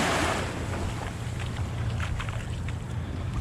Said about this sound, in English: with that soothing sound of the waves